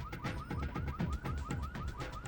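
Car alarm in the video game Hitman: Contracts, rapid repeating warbling electronic whoops in a fast regular cycle, fairly faint and heard alone.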